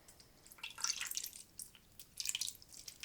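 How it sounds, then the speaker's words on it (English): A gravy mixture poured from a bowl over cube steaks in a slow cooker, soft close wet splattering in two short bursts with quiet gaps between. "I'm just going to pour it right on top of these cube steaks."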